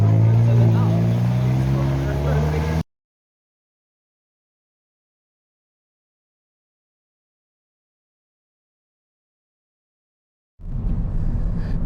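A Hyundai N performance car pulls out of a pit area with a loud, steady engine and road roar for almost three seconds, then cuts to silence before a rumbling vehicle noise returns near the end.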